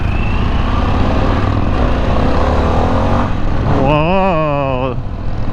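Engine roar from a 2021 Harley-Davidson Pan America motorcycle on a test ride in sport mode, loud and steady with wind noise, under a man's speech; near the end a sharp rising-and-falling whine sweeps up as the throttle is blipped.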